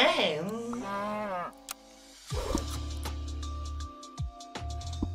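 Cows moo in a short series of low, drawn-out calls in Super Auto Pets, loud and close, with a brief voiced sound before and a few clicks between.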